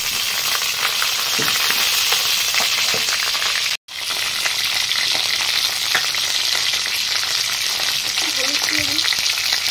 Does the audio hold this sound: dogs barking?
no